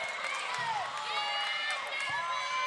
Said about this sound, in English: That lights up the crowd.